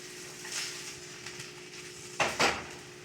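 A burger patty is flipped in a pan: two quick scraping, clattering knocks of a spatula come near the end over a faint, steady frying sizzle, with a softer utensil tap earlier on.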